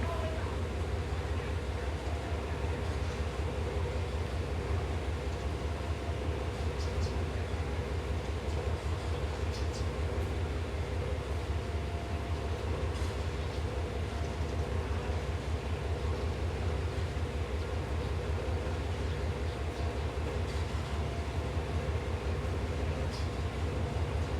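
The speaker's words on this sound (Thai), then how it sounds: "ตอนนี้กำลังเข้าสู่สถานีรถไฟลำปางนะฮะ" A steady, rumbling train noise as the Chiang Mai–Bangkok train arrives at Lampang station in Thailand, with constant rattling and hum, continuous and fairly even throughout, with faint occasional clicks.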